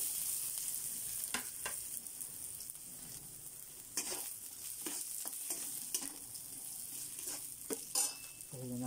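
Garlic sautéing in a pot for Filipino corn soup, a soft continuous sizzle with scattered crackles and stirring clicks, fairly quiet and close, no voices.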